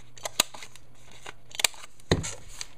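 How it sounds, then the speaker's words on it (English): A corner rounder punch snipping the corners off a 3x3 piece of pink cardstock, giving three sharp, crisp clicks spaced about a second apart, close and clear against a quiet room. "very quickly I'm just going to round off the corners."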